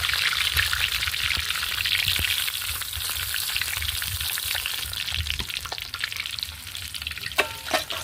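Fish frying in hot oil in a pan for a Bengali fish curry, a dense, steady sizzle and crackle up close that carries on without a break, with no one talking.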